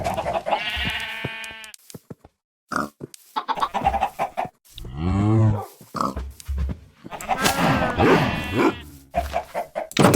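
Minecraft farm animals calling in a busy mix: chickens clucking alongside pig grunts and sheep bleats, loud and close in repeated bursts with short pauses, with no talking.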